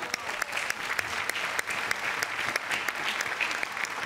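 Applause from a comedy show audience, a dense steady burst of clapping from many hands at close to moderate distance, lasting a few seconds without talk.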